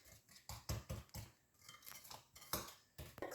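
Sauce for sticky spare ribs being mixed with a utensil in a bowl, quiet irregular clinks and scrapes of metal against the dish in a series of short strokes, with no talking.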